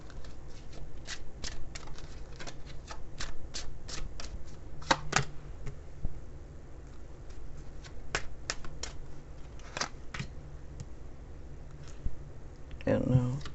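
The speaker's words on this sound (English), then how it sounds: "let me pull a couple cards here" Lenormand cards being shuffled by hand, a steady run of quick riffling clicks and flicks close up, with a voice talking faintly underneath.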